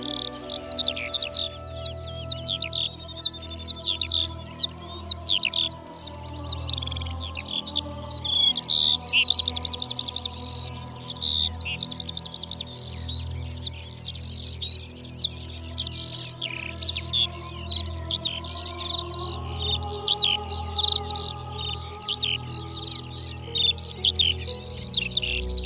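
A melodious warbler sings a fast, rambling, varied song of chattering and mimicked phrases, loud and close, continuing almost without pause, with a steady low hum of wind or distant traffic underneath.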